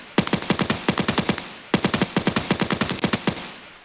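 Video-game gunfire: two long strings of rapid automatic shots, each a steady train of sharp, loud cracks, split by a brief pause, with no talking.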